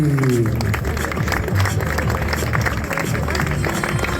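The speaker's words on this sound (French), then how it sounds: "Applaudissements pour notre vainqueur du jour, Lucas" Outdoor crowd applause for the day's winner, Lucas Didier, at a Vosges gran fondo cycling podium, a continuous wash of clapping with background music and crowd murmur at steady level.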